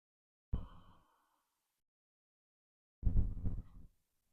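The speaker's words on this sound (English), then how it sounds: "Breathing in through your nose and out through your mouth right now" Two separate breaths sound close and soft in a quiet room during a beginner qigong session: a short inhale through the nose, a pause, then a longer, airy exhale through the mouth like a sigh.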